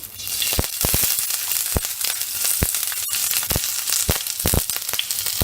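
Onion sizzles and crackles in a hot pan, a dense steady fry broken by sharp pops and spits throughout.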